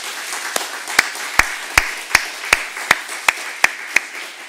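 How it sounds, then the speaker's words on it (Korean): A church congregation claps in unison for an elder, about a dozen sharp, evenly spaced claps in a steady rhythm, clear and fairly close, with no talking over them. "장로님 격려하는 박수 한번 하겠습니다."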